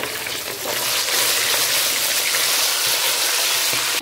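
Hot oil sizzles and crackles steadily and loudly as tilapia fish fry, a continuous frying hiss with no voices.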